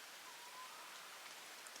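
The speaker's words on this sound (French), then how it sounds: "il y a pas mal de gouttes qui tombent encore des arbres" Water drops fall from the trees of a forest after rain at a bushcraft bivouac, a dense, steady patter of small droplets pattering on leaves and ground, soft and continuous with no voices.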